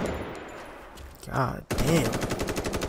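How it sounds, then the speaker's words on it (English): Bursts of rapid automatic gunfire in a third-person open-world multiplayer survival video game, loud and close, with a brief exclamation from a player mixed in. "The guns sound pretty good, bro."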